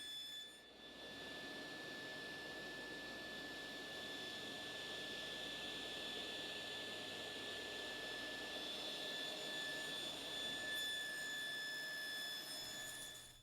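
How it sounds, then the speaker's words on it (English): Table saw with a raised blade cutting tenon cheeks in walnut using a tenoning jig, a steady high whine and broadband cutting noise held evenly for over ten seconds, heard alone. "after raising the blade up to 1 1/4 inches, we cut away the cheeks using the tenoning jig"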